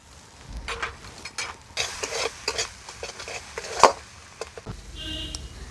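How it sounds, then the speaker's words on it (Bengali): Spice paste with a little salt being stirred and fried in oil for a pointed gourd and curd dish, with scraping spatula strokes and a soft sizzle, close and moderate. "ভালো করে মশলাটা কষতে থাকবো। অল্প একটু লবণ দিয়ে দেব।"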